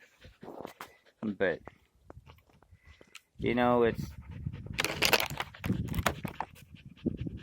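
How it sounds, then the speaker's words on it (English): A dog pants in quick, close bursts, with a longer heavy run of panting partway through, mixed with a few chewing or licking noises and a brief spoken word. "My dog's trying to take over this."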